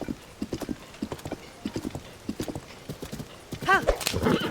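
Horse hooves clip-clop at a steady trot in The Legend of Zelda: Tears of the Kingdom, near and rhythmic, ending in a loud neigh or whinny, with game ambience and no talk over it.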